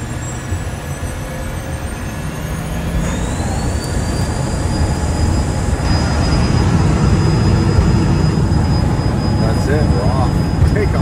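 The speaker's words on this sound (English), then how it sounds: "Never been in a little plane like this." Inside a small private jet, a broad, loud engine roar builds and holds steady, with a rising whine threading through the cabin noise.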